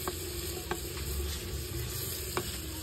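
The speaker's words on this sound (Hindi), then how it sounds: "इसमें प्याज पक रही है हमारी" Onions cooking in a pan for a village-style mutton dish, a steady moderate sizzle with a few sharp spoon clinks against the pan, close by and without speech.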